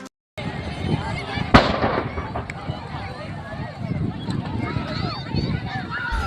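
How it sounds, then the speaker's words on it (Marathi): A single sharp blast cracks out amid noisy outdoor commotion at a market fire near a petrol pump in Chalisgaon, with people's voices and crowd babble continuing around it. "आग लागल्याच्या काही वेळातच एक मोठा स्फोट झाला"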